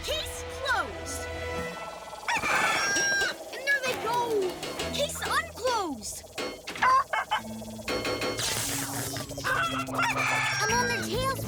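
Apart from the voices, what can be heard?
cartoon chickens clucking and crowing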